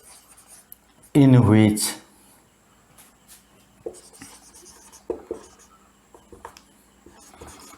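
Pen or chalk writing out a nuclear fusion reaction in a classroom lesson, with scratchy strokes and light taps under a teacher's voice, which sounds briefly in a louder burst.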